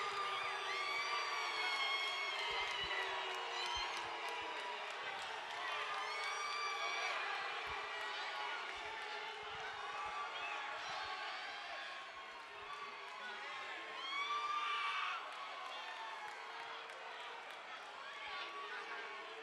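A fight-night crowd at RFC Fight Night 2 reacts to a split decision, a mass of chatter, shouts and scattered whoops filling a large hall, with a brief louder swell of crowd noise partway through.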